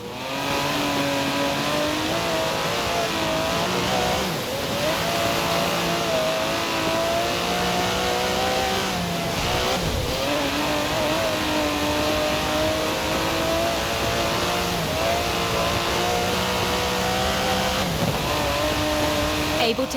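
In the video game Forza Horizon 4, an Aston Martin DB11 with a 5.2-litre twin-turbo V12 revs loudly and up close, its engine note rising and falling continuously.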